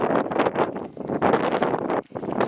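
Gusty wind buffets the microphone on a rocky, windy descent path from the Rucu Pichincha volcano, a loud, continuous roar surging and easing in waves with a brief lull near the end.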